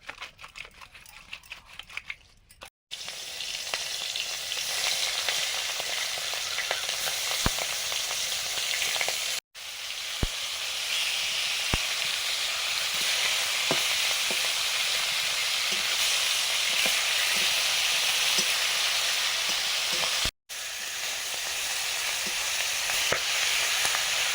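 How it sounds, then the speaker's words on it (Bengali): Boal catfish rubbed with salt and turmeric frying in hot oil gives a loud, continuous crackling sizzle, with a few brief cuts and occasional sharp pops, no voices. "একটা বোয়াল মাছ নুন হলুদ মাখিয়ে দিলাম, ভাজবো এবার।"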